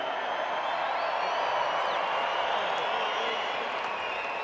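Big stadium crowd at Eden Park applauding and cheering after an All Blacks v Australia rugby test in 2019, a steady dense roar of clapping from far off that fills the whole stretch without a break.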